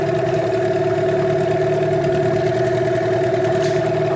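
A new 15 hp Parsun T15BMS outboard boat motor runs steadily at a constant mid-pitched drone, loud and close, with no talk over it.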